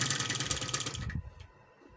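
Sewing machine stitching a collar onto a kurti, a fast even mechanical rattle for about a second before stopping abruptly, followed by faint handling clicks, close and alone.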